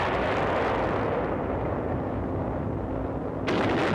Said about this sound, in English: From the ridges, a Jap barrage hampers unloading operations.